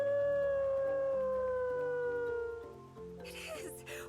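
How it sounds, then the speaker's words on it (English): A dog howls in the video game Lightning Returns: Final Fantasy XIII, one long steady mournful tone that slowly falls in pitch over a soft game music backdrop, followed by a brief burst of brighter noise. "There's your doggy!"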